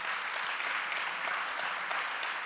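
An audience applauds Kenny at the 2024 Youth Resilience Summit: a dense, steady wash of clapping that holds at an even, fairly loud level throughout, with no voices over it.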